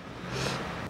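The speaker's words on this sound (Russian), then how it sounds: "Ну все, заводится, да, быстро." The engine of a 2001 Nissan X-Trail catches in a single short, loud swell that rises and settles within a second.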